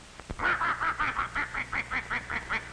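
A goose honks repeatedly in a quick, steady series of about a dozen loud, nasal calls, close by.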